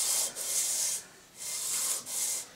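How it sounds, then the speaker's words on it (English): Lapping the side of an EMCO lathe chuck by hand, four smooth abrasive rubbing strokes with brief pauses between them, close and steady, with no talking. "Now I will make some tender lapping on the side here."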